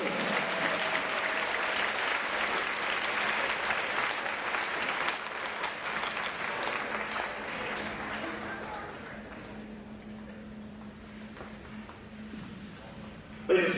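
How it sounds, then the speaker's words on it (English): A large crowd at a men's college hockey rink applauds in a sustained, loud wash of clapping that gradually thins and fades toward the end. "Give a round of applause from Sergeant First Class Kevin Doherty"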